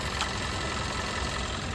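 A car engine idles with its cam sensor unplugged, giving a steady, even running noise at moderate level throughout, with no voices.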